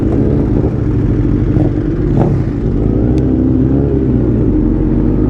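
A KTM V-twin motorcycle revs nearby at St Mary's Loch, a loud, steady engine roar with brief throttle blips rising over the rumble, and no talking.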